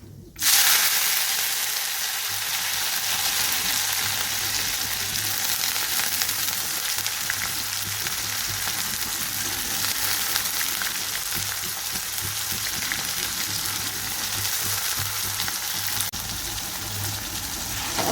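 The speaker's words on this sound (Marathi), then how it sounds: "शेंगा परतून घेऊया तेलामध्ये" Cowpea pods frying in hot oil with garlic-ginger paste, cumin and mustard seeds, a loud, steady sizzle that starts abruptly and runs unbroken throughout, with faint stirring and no talking.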